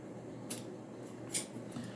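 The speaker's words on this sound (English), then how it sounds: "So cutting it with just a pair of scissors" Scissors cutting through a thick, heavy-duty Kore Essentials gun belt: two or three distinct crisp snips spaced apart over quiet room tone, close and otherwise silent.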